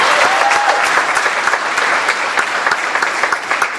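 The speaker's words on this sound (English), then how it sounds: "How about a quick round of applause?" Audience applause at a spring jazz band concert, dense and steady, a loud wash of many hands clapping throughout with no talk over it.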